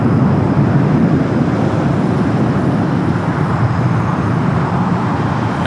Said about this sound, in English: There goes that Delta A350, the flight heading to Shanghai, continuing its taxi down to 25 at right.